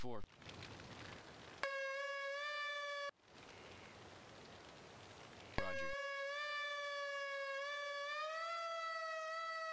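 Game emergency vehicle siren from Emergency 4, West Lampeter Township mod: loud sustained wailing tones that restart twice after brief breaks, holding steady harmonic pitch with a slow rise near the end, accompanied by background noise.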